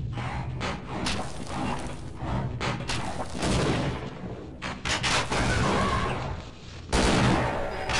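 Grenade launcher rounds bursting in Half-Life: Blue Shift, with dense, rumbling explosions and weapon fire rolling almost continuously and loudly, punctuated by a few sharper blasts.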